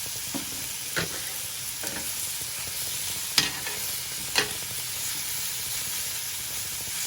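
Jerk pork with onions and green peppers on a grill: a continuous close, steady sizzle and hiss, with a few soft clinks and scrapes scattered through it and no voices.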